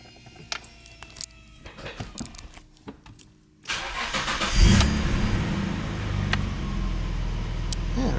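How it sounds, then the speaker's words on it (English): A Nissan R32 GTR with upgraded Apexi intakes cranks over with clicks and starter whir, then fires up and settles into a loud, steady idle, close up with no talk. "I'm gonna go ahead and start the car up."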